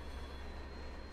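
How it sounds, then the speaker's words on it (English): An Amtrak train passes in the Run8V2 train simulator game, a steady, faint rolling rumble of rail noise with a thin high squeal, unbroken and with no talk. "we got the Amtrak going"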